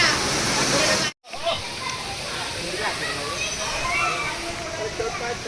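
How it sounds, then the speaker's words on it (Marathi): Small waterfall on a hillside trek near a temple in Jalgaon, a steady rushing hiss of falling water heard close and continuous, with someone speaking over it throughout. "बघू शकता एक छोटासा वॉटरफॉल आहे हा वॉटरफॉल आहे"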